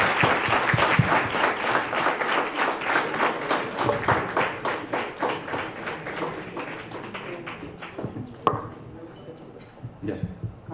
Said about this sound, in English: Thank you. Round of applause.